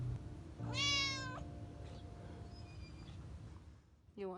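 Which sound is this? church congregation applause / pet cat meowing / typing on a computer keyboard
pet cat meowing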